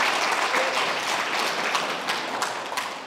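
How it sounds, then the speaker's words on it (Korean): An audience at an art award ceremony gives a round of thankful applause, dense clapping with a few sharper individual claps standing out as it gradually thins toward the end. "우리 강요배 작가님께 다시 한번 감사의 박수를 보내주시기 바랍니다."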